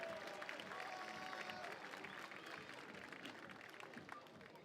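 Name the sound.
audience applause for France at a 3x3 basketball event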